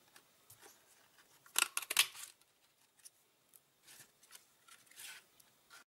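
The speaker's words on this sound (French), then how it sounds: "je vais cette fois-ci pouvoir la découper avec ma perforatrice" Paper punched and cut with a craft punch for a small dragonfly shape gives soft crisp snips and clicks, a denser burst in the middle, then quieter scattered rustles, all faint and close with no talking.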